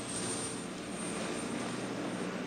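A helicopter sounds as a loud, continuous, dense roar that fills the whole moment, with no voices over it, in a 1977 Mexican comedy film.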